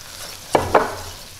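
Flour being stirred into frying mushrooms and onions makes two quick, close scraping strokes over a low, steady sizzle.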